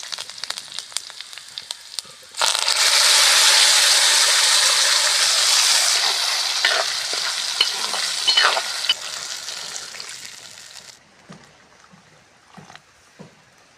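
Garlic and fenugreek fry in a pan with a loud, close, steady sizzle that starts suddenly, eases off gradually and then stops, with scattered stirring clinks and no talk.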